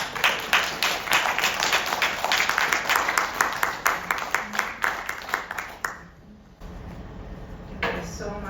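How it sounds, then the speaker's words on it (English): A book launch and signing audience claps steadily for about six seconds, with crisp, even applause that then stops abruptly, leaving room noise and a voice. "And a big, big round of applause to Sharon Gordon."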